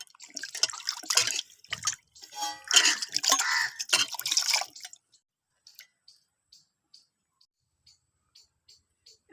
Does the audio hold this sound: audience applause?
no